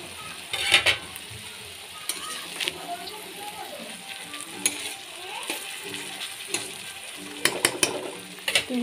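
Fish slid into hot oil in a home kitchen pan, giving a steady broadband sizzle with clinks and scrapes from stirring on top, fairly close and moderately loud throughout.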